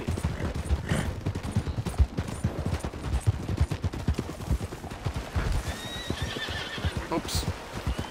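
Horse riding in Red Dead Redemption 2: rapid hoofbeats drum loud and close, a horse whinnies, and a few sharp mechanical clicks and distant shots break in near the end, with some talk mixed in.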